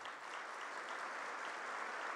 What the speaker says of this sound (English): I would like everyone to applaud